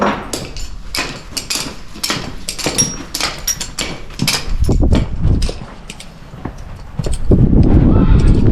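Hooves clip-clop in an uneven rhythm on a hard surface, close by, with louder thuds and rustling toward the end.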